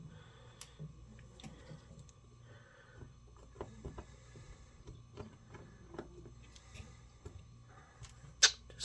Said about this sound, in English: We can take these screws out.